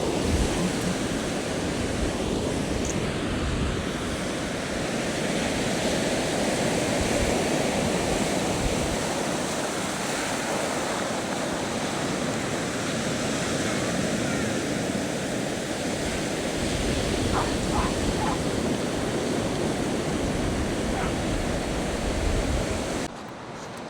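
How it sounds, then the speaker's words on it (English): Sea waves break and wash onto Hemmick Beach in Cornwall, a sandy cove with some rocks, on a sunny day: a steady, full roar of surf with faint gusts of wind runs unbroken for over twenty seconds, with no talking. "Yeah, you can listen to the waves for a sec."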